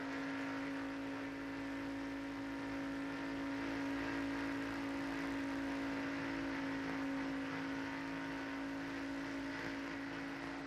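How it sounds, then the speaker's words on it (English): Steady, loud engine drone of Jeff Gordon's NASCAR stock car at the 1994 Daytona 500, recorded from inside the car, holding a constant high whine for the whole stretch with no voices. "How do they race? From inside Jeff Gordon's car."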